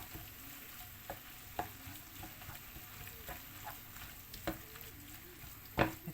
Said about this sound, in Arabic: كنحرك كنستمروا في التحريك حتى كيدبل لنا خيزو